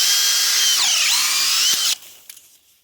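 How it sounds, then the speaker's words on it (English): A power drill runs wide open while boring a tap hole into a tree trunk, whining loudly with a pitch dip as it bites into the wood, then stops abruptly. "get the drill going wide open, and then just in and out of the wood"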